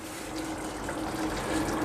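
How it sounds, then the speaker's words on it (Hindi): Two cups of hot water pour into a pot of browned mutton for korma, a steady, soft splashing trickle that runs continuously with no talking. "मैंने इसमें 2 कप पानी डाल दिया है"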